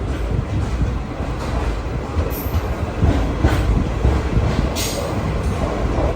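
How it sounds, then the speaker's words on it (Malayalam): A passenger train rolls into platform 4 at Palakkad Junction, a busy railway station, with a continuous heavy rumble, rail clatter and a few brief high wheel squeals, heard up close with no voices. "4-ാം നമ്പർ പ്ലാറ്റ്ഫോമിലേക്കാണ് വണ്ടി വന്നത്."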